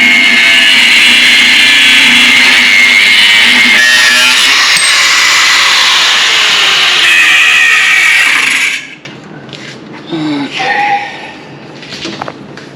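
A Milwaukee angle grinder cuts into a new Dana 300 twin-stick shifter kit with a loud, continuous whining roar for several seconds. The noise then drops away and speech follows.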